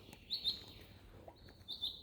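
A small bird in a forest chirps a few thin, high tweets, faint and somewhat distant, in two short bursts over quiet background.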